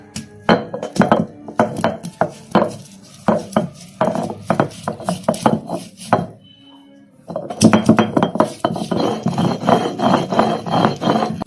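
A piece of ginger and spices crushed together by hand, giving repeated close rasping, grinding strokes in quick rhythm, with a short pause midway before the pounding resumes.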